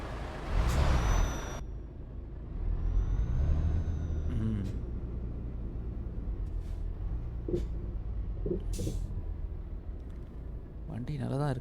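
A MAN truck starts up in Euro Truck Simulator 2, with a sharp air-brake hiss at the outset, a low diesel rumble settling into idle, and short clicks and hisses scattered throughout while someone talks over it.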